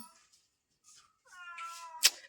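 A short cat meow with clear harmonic tones, followed by a sharper, louder cry; quiet gaps between.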